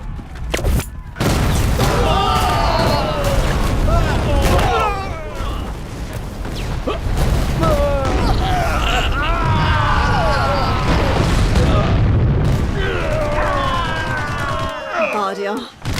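Loud explosions and bursts of gunfire in an action movie battle scene about a convoy in the Balkans, with heavy dramatic music and shouted voices over the blasts.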